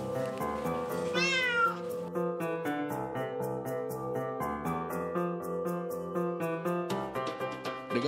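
A Bengal cat gives one short meow early on. It is heard in a home cattery in Padang, over steady rhythmic background music.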